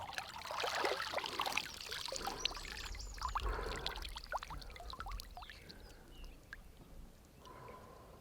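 Water splashes and trickles around a bather wading in on a winter morning during a Portugal road trip, steady close sloshing and pouring sounds with small splashes throughout, no talking.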